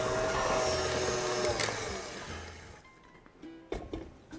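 Electric hand mixer whirring loudly through cake batter with eggs and vanilla, a steady motor buzz that cuts off partway, followed by a few clattering knocks of the beaters against the bowl, close by.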